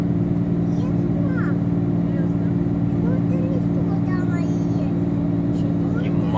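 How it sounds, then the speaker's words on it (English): A 2014 Ram 3500 with a Cummins diesel, towing over 17,000 pounds down a 6% grade, drones with a steady loud low exhaust-brake rumble inside the cab, unbroken throughout. "You must have an exhaust brake when you're towing, guys."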